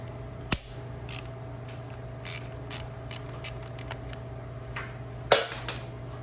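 An 8mm socket wrench works on the top mount of a Honda CRF250X dirt bike, giving sparse metallic ratchet clicks with two sharper knocks, close by and fairly quiet over a steady low hum.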